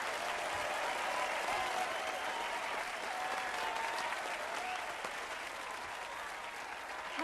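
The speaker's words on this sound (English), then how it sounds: "Keep that applause going." Studio audience at a television talk show applauding steadily, a dense, even wash of clapping that holds at a constant level throughout.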